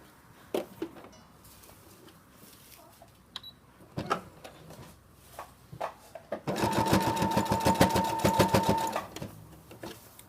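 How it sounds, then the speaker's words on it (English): A few scattered clicks and thumps, then a sewing machine stitching near the rough edge of fabric runs in a fast, steady rhythmic burst for a couple of seconds before stopping. "I'm going to tuck this into the sewing machine like so"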